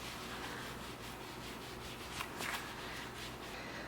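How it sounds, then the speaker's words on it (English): Light rubbing of cleansing oil over facial skin, a soft continuous slippery friction that runs steadily close up and fairly quiet, with a brief slightly stronger swipe midway. "there's a little light rubbing action there"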